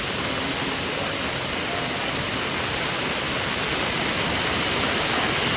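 Floodwater from a river swollen by heavy Konkan rain rushes past in a steady, loud, broadband roar with no pauses and no voices.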